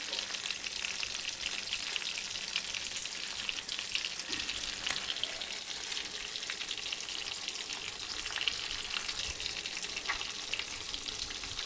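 Loud, steady sizzling of stuffed chillies frying in hot oil in a pan, continuous and close throughout, with no voices.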